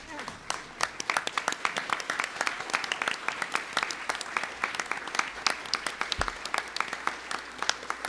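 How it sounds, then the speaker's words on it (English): A crowd at an opening ceremony procession applauds steadily, many hands clapping in a dense, sustained burst with a few louder claps standing out. "Let's stand as we give a round of applause to our procession."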